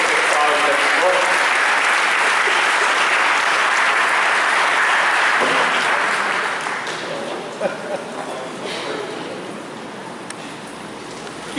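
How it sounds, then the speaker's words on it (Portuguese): Church audience applause, full and steady at first, then thinning and fading after about six seconds into scattered claps and a quieter room murmur. "Uma salva de palmas para esse pessoal aí"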